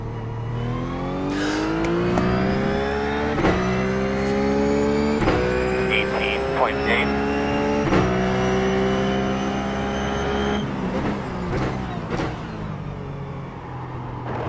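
A Ruf GT3 race car engine at Spa-Francorchamps in the iRacing sim, roaring loud and close as it revs up through gears with repeated shift cuts and rising pitch, with a brief tire noise and faint talk underneath.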